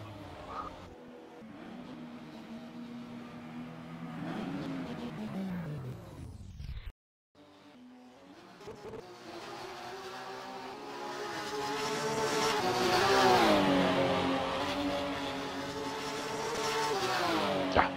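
Race car on the Hungaroring circuit entering the pit lane, engine note falling then rising again as it passes, moderately loud and close with a brief cut partway.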